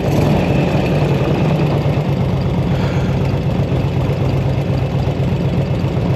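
A 1984 Harley-Davidson FLT motorcycle engine, unused for 20 years, idles loudly and steadily up close, a continuous low throbbing rumble with no pauses.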